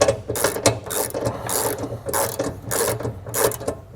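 A ratchet wrench tightens the swivel bolt on a Lippert JT's Strong Arm jack stabilizer fitted to a 2022 Jayco Jay Feather trailer, giving loud, close, rapid clicking in repeated bursts with no talk.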